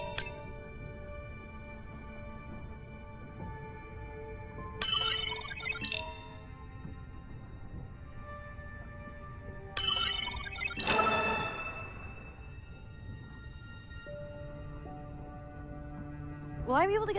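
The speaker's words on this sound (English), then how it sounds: "Hey, Andre, those reef sharks like your ringtone." A musical phone ringtone plays in the underwater video game Beyond Blue, with three bright chiming bursts about five seconds apart over a quiet ambient background.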